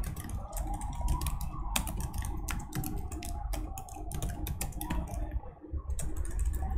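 Code being typed for a JavaScript lesson on a computer keyboard, a close, fast run of crisp clicks with brief pauses and no talk.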